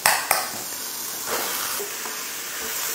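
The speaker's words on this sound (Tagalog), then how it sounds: "Ihalo na rin natin dito yung hot dogs." Hot dogs stirred into a pan of frying pork menudo, a steady close sizzle with a couple of sharp clacks of the spoon at the start and a soft scraping stir.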